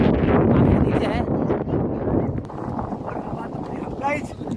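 Strong wind buffets the microphone at a nature safari in Rajgir near a glass bridge, with constant loud rumbling gusts while a person talks throughout.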